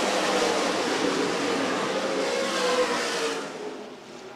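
ARCA/CRA Super Series stock race cars circle Winchester Speedway in a sustained, loud engine roar that swells as the pack passes, then fades slightly toward the end; no talk.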